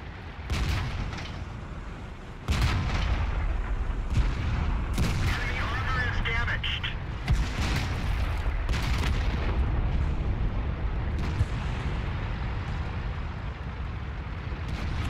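Artillery shells and heavy cannon fire from the World of Tanks video game, several loud booming blasts and crackling explosions rolling across the clip amid continuous battle noise, with a voice briefly heard.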